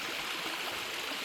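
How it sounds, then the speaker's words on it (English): A three-tiered waterfall near Elkview, upstream past a small railroad tunnel, gives a steady, full rushing roar of falling water, close and unbroken throughout. "Back at Elkview, discovered a new waterfall."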